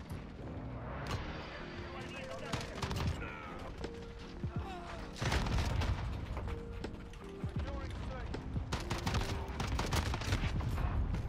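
Rifle fire in a video game, an AR-style rifle fitted with a sniper scope, sounds as sharp shots in irregular bursts with clicking mechanical handling noises and game effects between them, loud and close, while someone talks over it.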